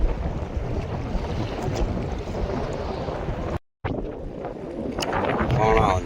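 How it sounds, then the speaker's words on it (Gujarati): Strong wind buffets the microphone at sea on a crab-fishing boat, a loud continuous roar with rumbling gusts, a brief cut to silence, then more blustery noise with faint voices. "પવન ફૂલ છે"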